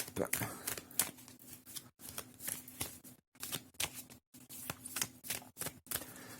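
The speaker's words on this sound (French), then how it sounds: "J'avais envie de vous tirer une carte avec les anges." Oracle cards being shuffled and drawn from a deck, quick riffling and flicking rustles close by in irregular bursts with short pauses.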